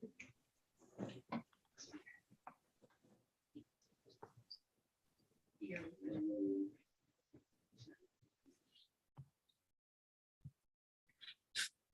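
A single short sneeze during a judge's online courtroom session, one sharp burst partway through amid quiet stretches, scattered rustles and a few faint voices.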